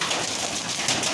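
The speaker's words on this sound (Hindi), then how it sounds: "देखिए कितना तेज बारिश हो रहा है" Heavy storm with hail and rain pelting down, a dense, continuous hiss of impacts that stays loud and even throughout the short stretch, with no voices.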